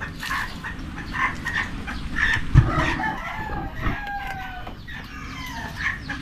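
A chicken clucks and squawks in agitated, repeated bursts, with a short crow-like call among them, fairly close and alone amid light background rustling.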